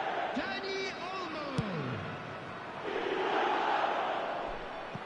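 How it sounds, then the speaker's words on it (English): A stadium crowd in the eFootball 2026 football video game swells with a steady roar and cheering, punctuated by a whistle-like tone and a brief thump, with no commentary over it. "the crowd are reacting to that now"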